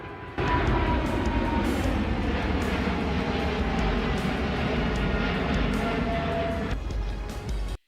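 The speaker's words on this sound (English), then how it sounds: "A plane lands terrifyingly close to the public ground." A low-flying airplane landing close to a crowd, a loud, steady jet roar that swells in abruptly and holds at full strength for several seconds before cutting off.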